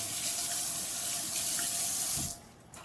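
Kangen water pours steadily from a tap into a sink while sea moss is prepared, a close, continuous splashing rush that cuts off sharply near the end.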